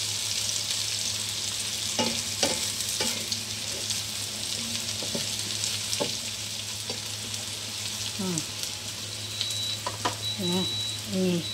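Bitter melon, tempeh and tofu stir-fry in a pan with a steady sizzle, while a spatula scrapes and clacks against the pan in irregular taps throughout.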